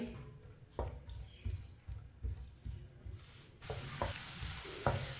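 Finely chopped onion fries in oil in a pan, a steady sizzle broken by repeated scraping spoon strokes that come every half second or so, growing brighter and louder toward the end.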